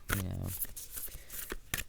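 Tarot cards being shuffled, a quick riffling burst followed by scattered soft card taps and slides, close up.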